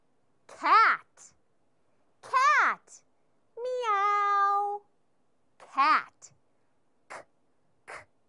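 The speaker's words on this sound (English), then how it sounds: "Yes, cat." A cat meows several times, with four clear close meows and one longer drawn-out one, separated by silence, followed by a few faint short sounds.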